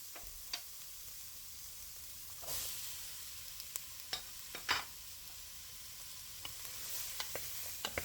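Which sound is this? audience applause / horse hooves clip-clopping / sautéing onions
sautéing onions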